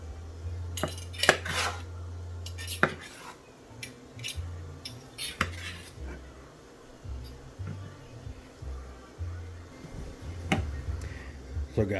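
Knife slicing through smoked BBQ tri-tip on a board, scattered metallic clicks and taps of the blade and utensils with soft cutting sounds in between, close and fairly quiet, with no talking.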